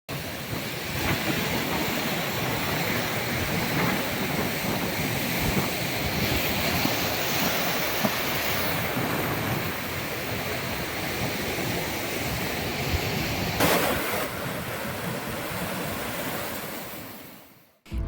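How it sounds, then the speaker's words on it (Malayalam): Rough, agitated sea surging onto the shore at Payyambalam beach, a continuous loud roar of breaking waves with heavy wind buffeting throughout, no voices. "കഴിഞ്ഞ രണ്ട് ദിവസങ്ങളിലായി പയ്യാമ്പലം കടൽ തീരം പ്രക്ഷുബ്ധമാണ്"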